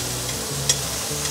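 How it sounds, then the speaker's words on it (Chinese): King oyster mushrooms dry-frying in oil in a pan give off a steady, close sizzle with a faint crackle and no talking. "把杏鲍菇放进来干煎"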